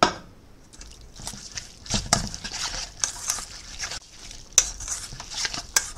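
Boiled corn is mixed in a pan with a spoon, producing scattered light clicks, scrapes and wet squelches at close range over a quiet background.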